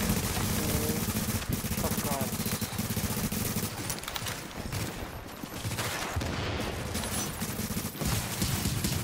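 Rapid shotgun fire in a video game, loud and sustained through the whole stretch, shots overlapping in dense bursts with players talking over the din.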